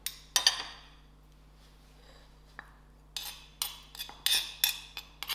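A spoon clinks against a bowl while prawn chutney is mixed with squeezed citrus juice, with one sharp tap near the start and a quick series of bright, close clinks toward the end.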